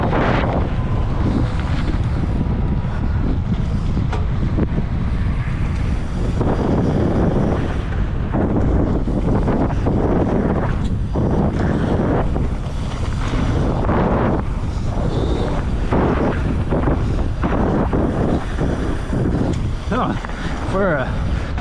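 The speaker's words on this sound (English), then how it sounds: "Alright, it's windy, so we'll see how this goes." Heavy wind roars continuously across the microphone on a mountain bike trail in Bentonville, a loud, dense rush with gusting surges throughout.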